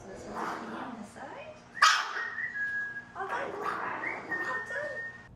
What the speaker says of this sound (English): For dogs like 8-year-old Gibson, the visits mean one thing for sure: a needle.